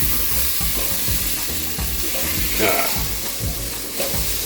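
Crushed red pepper and garlic sautéing in a pan for a lasagne ragu, a steady close sizzle broken by the repeated scrape and clack of stirring.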